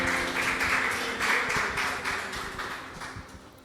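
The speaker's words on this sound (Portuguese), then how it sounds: "Você pode aplaudir a Ele." A church congregation claps together in steady, dense applause that fills the room, loud at first and easing gradually, with no voices over it.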